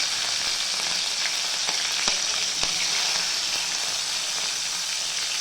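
Green chilies fry with cumin and mustard seeds in hot oil, a steady, dense sizzle with a few sharper pops and crackles rising from the continuous hiss, close and unbroken.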